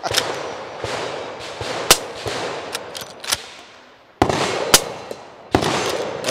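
Several sharp gunshots from a .45 pistol-caliber carbine firing hollow point rounds crack out at irregular intervals, loud and close, each followed by a noisy echoing tail.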